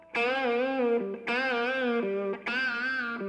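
A blues rock electric guitar solo with first-finger bends: three sustained, distorted notes in turn, each bent and wavering with vibrato, loud and close, with no talking.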